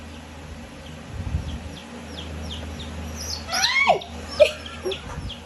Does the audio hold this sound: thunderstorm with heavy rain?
no